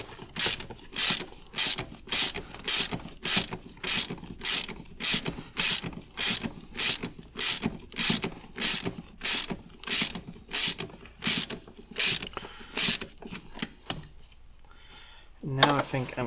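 A ratchet works a bolt tight on a Jaguar XJ40, giving a steady run of crisp, evenly spaced clicks about twice a second, close and clear, before stopping with a brief rustle at the end.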